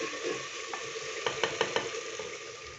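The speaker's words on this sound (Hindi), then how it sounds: "अदरक लहसुन और सब्जी मिर्च के पेस्ट को हमने हल्का सा फ्राई कर लिया है।" Ginger, garlic and green chilli paste fries in a pan with a steady soft sizzle, then a few quick utensil scrapes and taps near the end, close and fairly quiet.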